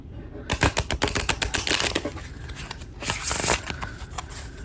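Tarot card deck being riffle shuffled up close, a rapid run of crisp fluttering card clicks followed by a second shorter burst of cards cascading together.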